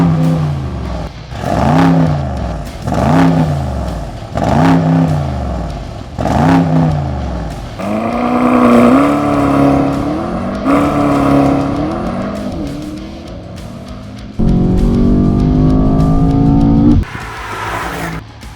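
Mercedes-AMG S 63 E Performance drives past with a loud engine, rising revs and gear changes heard in repeated surging pulls, then a sustained roaring acceleration near the end, with no talking.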